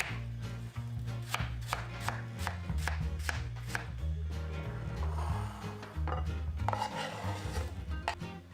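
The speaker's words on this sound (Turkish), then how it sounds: "elmaları ekranda gördüğünüz gibi dilimleyerek küp küp doğruyorum" Apples being sliced and cut into cubes with a knife, giving rapid, regular chops on a cutting board, loud and close, with no talk.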